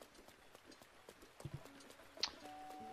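A horse's hooves clip-clop faintly and sparsely in the game Breath of the Wild, with a couple of louder hoof falls and a brief high chime near the end, with no talking.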